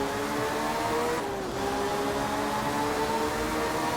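A rally car engine in the racing game Art of Rally drones steadily at high revs, a continuous close whine with a brief dip and recovery, with no talk.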